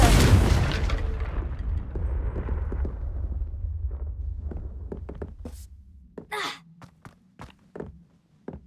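Confringo spell explosion in Hogwarts Legacy: a loud, deep blast opens and rolls off into a rumbling decay. Scattered footsteps and light thuds follow, with a few sharper clicks and swishes near the end.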